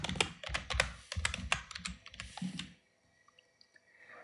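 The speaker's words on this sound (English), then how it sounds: "hit F2 on the keyboard to rename and call it particles" Rapid keystrokes clatter on a computer keyboard for a few seconds of close, crisp typing, then stop and leave near-silence.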